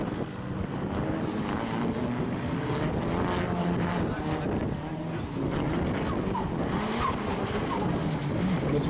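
A drift car spins out past the judges' tower at Driftfest Round 1 in Fermoy, its engine droning and tyres squealing continuously, with a commentator talking over it.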